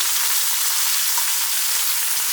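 Tomato paste with black pepper, chili powder, thyme and cumin sautéing in a pan gives a loud, steady, close sizzle and frying hiss that runs without a break.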